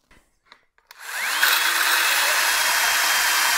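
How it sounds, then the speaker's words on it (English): A bandsaw cuts through a hardened steel power hammer die, its blade spinning up after a few faint knocks and settling into a steady, close metallic whine with grinding hiss. "I just cut this with a bandsaw"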